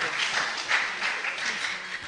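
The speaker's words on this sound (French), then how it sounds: "On l'applaudit, les amis." Audience applause at a French-language quiz show, a steady round of clapping from a studio crowd lasting the whole moment without pause.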